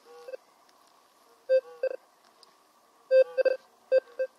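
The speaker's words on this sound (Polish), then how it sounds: "Włączyłem teraz tryb mieszany i daje taki fajny sygnał na większej wysokości czy głębokości." Alter 71 metal detector in mixed mode giving its signal while being swept during a meteorite search, short electronic tone beeps in irregular clusters, some doubled, over a faint steady hum.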